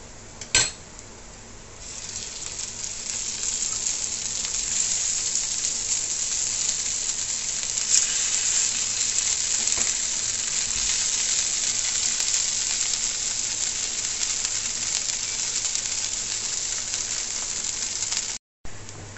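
Suran (yam) cutlets sizzle steadily in oil on a tawa, a continuous close frying hiss with faint scrapes and clinks of a pan and utensil, and no talking.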